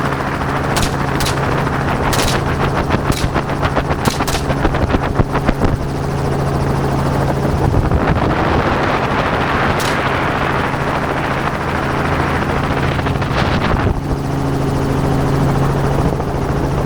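A helicopter flies overhead during a hog hunt, its loud, continuous rotor thump and turbine whine filling the scene, with sharp gunshot cracks scattered through the first seconds and again later.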